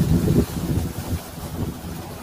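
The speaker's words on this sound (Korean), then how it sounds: "안에서도 바람 소리가 아주." Strong gusty wind during a typhoon-like storm, heard from indoors with windows shut, roaring as a steady low rumble that swells and eases in uneven gusts, fairly loud throughout with no voices.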